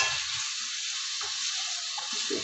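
Carrots stirred into a hot pan of oil while cooking olive-oil braised celery, giving a steady sizzle with a few soft scraping stirs, close and alone.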